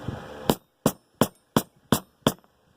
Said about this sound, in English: I'm going to use a smaller hammer for this and just pound it down